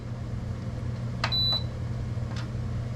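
A COMFEE air fryer gives two short, thin electronic beeps close together as a setting is selected, then a fainter third beep, over a steady low appliance hum in a quiet room.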